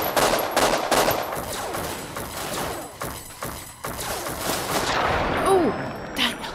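Enemies firing weapons in modded Fallout New Vegas: rapid bursts of gunfire and thudding shots crackle through the first four seconds, then sparser impacts, with a voice talking faintly over the action.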